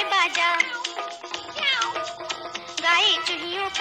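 Cat meows sound through an old Hindi children's song, a quick string of bright, wavering cries that run almost continuously over the musical backing.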